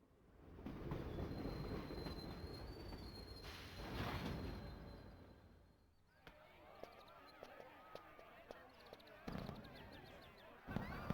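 Train ride sounds from Professor Layton and the Diabolical Box: a loud, steady rolling rumble, then lighter rhythmic clicks and squeaks of wheels on track with occasional sharp taps, with a voice speaking over parts of it.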